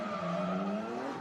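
Tires squeal in a long, steady sustained howl as an Audi S4 drifts through a Driftcup competition run, loud and unbroken for the whole moment.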